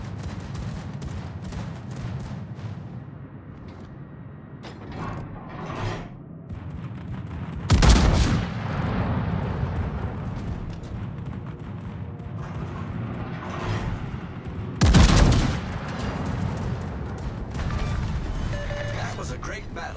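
Battleship HMS Thunderer's guns firing in World of Warships, two heavy booming salvos several seconds apart over a constant low rumble of engine and sea noise, with a voice speaking in between.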